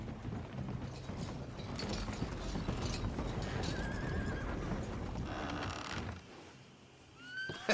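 Horse in the Red Dead Redemption II video game, hooves clip-clopping steadily at a moderate pace with mechanical creaks, then a brief pause and a whinny near the end.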